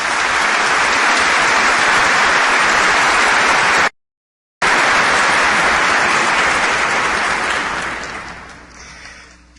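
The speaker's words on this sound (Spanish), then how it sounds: "Un fuerte aplauso" Loud, dense applause from an audience at a university lecture event breaks briefly, then resumes and gradually fades out.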